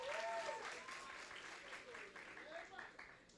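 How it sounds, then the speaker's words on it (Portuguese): A church congregation claps together in the sanctuary at a youth service, a steady wash of applause with faint voices and a few cheers mixed in underneath. "Palmas."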